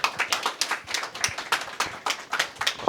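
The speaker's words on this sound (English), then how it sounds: "let's give her an applause, everybody" Applause from a small audience at a hemp festival talk, scattered claps in an uneven rhythm, fairly close and moderately loud, with no voices over it.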